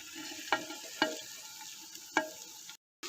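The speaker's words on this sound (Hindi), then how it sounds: "अब मैं इसके अंदर बारीक कटे हुए टमाटर शामिल कर दूंगा और साथ ही जो मसाले हैं ये शामिल कर देंगे" Finely chopped tomatoes and spices frying in a pan, a low steady sizzle broken by three sharp spoon scrapes and knocks against the pan at uneven intervals, with a short silent gap near the end.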